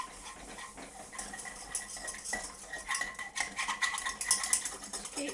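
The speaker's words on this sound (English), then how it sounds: "Keep whisking and then there won't be any lumps in it" A whisk scrapes and clinks rapidly in a pan as milk is worked into a parsley sauce, fairly faint, with uneven strokes growing busier toward the end.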